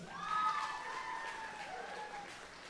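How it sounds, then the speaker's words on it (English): A graduation crowd cheers and applauds in a large hall, a moderate wash of clapping and whoops with a few shrill whistles rising over it, fading slightly toward the end. "And the Dunkin' Donuts crew cheering her on."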